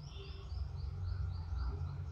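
Birds chirp and sing outdoors in a quick series of faint, repeated high tweets over a low steady background hum.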